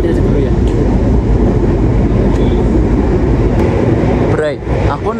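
Continuous low rumble and rattle of the moving Argo Dwipangga passenger train between Yogyakarta and Purwokerto, Indonesia, heard from inside a carriage, with a brief voice near the end.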